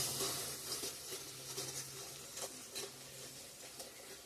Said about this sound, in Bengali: লঙ্কার গুঁড়া, ধনিয়ার গুঁড়া, জিরা গুঁড়া, ভালো করে কষিয়ে নেব এখন।